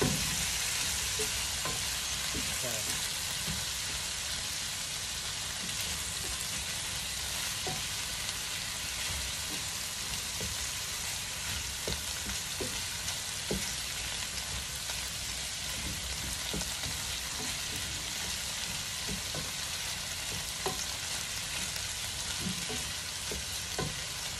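Squid frying in its own rendered oil with a spicy sauce, a dense, steady sizzle and crackle throughout with occasional soft stirring taps, close and continuous with no talk.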